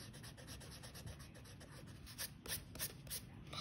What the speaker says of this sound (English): so I'll just erase them